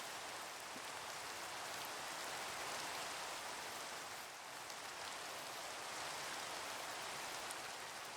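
Rain falling in the video game Minecraft: a steady, dense hiss of rainfall continues at an even level throughout, with no voices.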